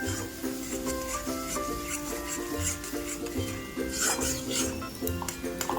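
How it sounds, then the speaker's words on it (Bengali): Masala with tomato paste being stirred and fried in a pan for Bengali katla kalia: a spoon scrapes and clinks against the pan with a soft sizzle underneath, set against steady tonal background music. "সেই টমেটো পেস্টটা আমরা এর মধ্যে দিয়ে দেব। আবারও ভালো করে নাড়াচাড়া করে নেব এবং মশলাটাকে কষিয়ে নেব।"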